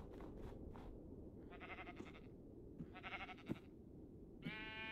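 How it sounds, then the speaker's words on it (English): A black sheep in the Minecraft RLCraft modpack bleats three times in short, clear calls spaced a second or so apart over a faint ambient background. "It's a black sheep."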